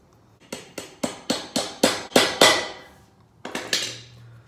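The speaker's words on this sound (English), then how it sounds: "So once that's in, just replace the dowel pin and hammer it back through." Sharp metallic hammer strikes driving a dowel pin through an LS swap adapter, about ten evenly spaced blows getting louder, then a short pause and a few more taps, close and with no voices.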